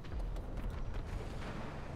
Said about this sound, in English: I hear lots of explosions.